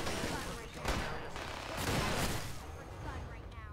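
Gunfire crackles in a Fallout 4 combat battle, several fairly faint, overlapping bursts and shots over a busy background of game noise.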